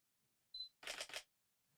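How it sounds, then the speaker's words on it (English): A Sony A7 IV mirrorless camera fires a short burst of bracketed shutter clicks, a quick beep followed by three rapid, crisp actuations close to the mic in an otherwise quiet room. "Push the shutter button down."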